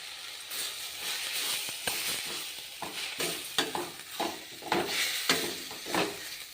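Lentils and coriander powder frying in a pan for a fenugreek dal, a low steady sizzle broken by repeated scraping stirs of a spoon in an uneven rhythm.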